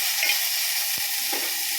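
Tomatoes sauté in a hot pan with a steady, close sizzle, broken by a faint stir or scrape now and then.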